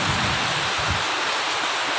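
Steady night rain falls in an even, continuous hiss, close by and fairly loud. No voices are heard.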